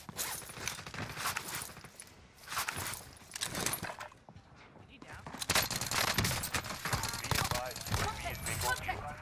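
Firefight in Warzone: bursts of rapid gunfire crackle in uneven volleys around an indoor shop position, with shuffling footsteps and gear movement between the shots and a person talking over the action.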